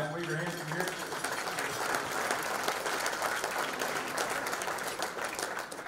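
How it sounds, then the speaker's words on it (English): A football banquet audience gives the coaching staff a sustained, even round of applause filling the whole stretch at steady loudness, with a few voices mixed in under the clapping. "in terms of the coaching staff, let's give them a round of applause."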